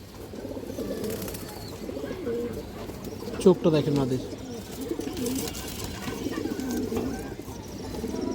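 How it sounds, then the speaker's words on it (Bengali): Pigeons coo steadily in a low, rolling murmur close by, while someone talks over them throughout. "খুব সুন্দর এক জোড়া কবুতর"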